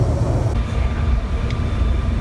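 A train pulling out of Milan, a loud steady low rumble of rail travel heard from inside, with a faint higher tone above the roar.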